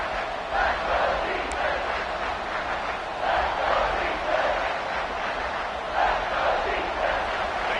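A football stadium crowd roars as the defense holds in the red zone, a broad sustained noise swelling in waves, with a commentator talking over it.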